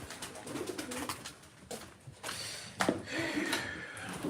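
Soft pigeon cooing mixed with rustling and a few faint knocks and bumps, heard up close at low volume without talk.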